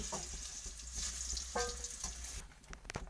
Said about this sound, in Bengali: ঠিক পটলগুলোকে আমি লাল লাল করে ভেজে নেবো